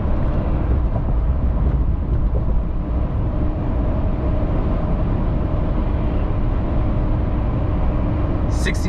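Inside the cab of a 2024 pickup truck cruising at 70 mph, a constant loud low rumble of road and engine noise fills the space, with a brief high chirp near the end.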